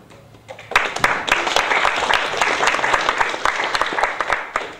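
Comedy show audience breaks into applause after a brief quiet moment, a dense, loud burst of many hands clapping that holds steady with sharper individual claps poking through.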